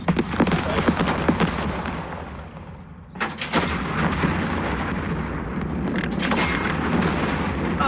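Rapid bursts of gunfire and heavy artillery booms crackle through a World War II-era strategy game set on the Eastern Front around Kiev, dense volleys continuing almost without pause, with a brief lull near the middle before the firing resumes.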